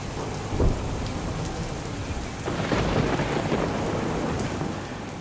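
Steady heavy torrential rain in Viramgam pours down with a dull thunder thump early on and a long rolling rumble of thunder building midway, continuing without any voices.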